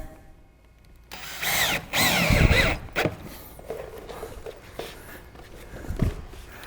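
A power drill drives screws through a metal drip edge panel on a roof, whirring loudly in two close bursts, then quieter scraping and handling noises follow.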